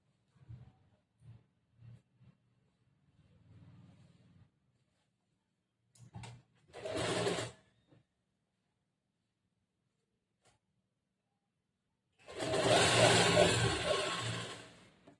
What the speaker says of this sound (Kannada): ಈ ಕೆಳಗಡೆಯಿಂದ ಒಂದ್ ಅರ್ಧ ಇಂಚ್ ಬಟ್ಟೆಗೆ ಇದನ್ನ ಇವಾಗ ಒಂದ್ ಹೊಲಿಗೆ ಹಾಕೊಂಡ್ ಬರ್ತೀನಿ